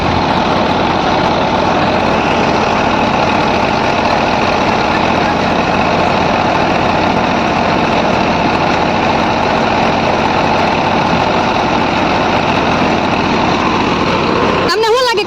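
A Mahindra tractor drives a bajra millet thresher with a loud, constant, close engine drone and mechanical clatter, unbroken throughout, while a voice speaks over it.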